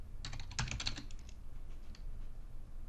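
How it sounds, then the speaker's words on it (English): Close keystrokes on a computer keyboard, a quick cluster of taps that tapers into a few scattered soft clicks over a low steady hum. "We type in Sam Signer's name"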